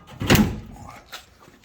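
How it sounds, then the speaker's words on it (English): Back door of a 1955 Chevy shutting with one heavy, close metallic thunk, followed by a fainter click a moment later. "But if I close this back door"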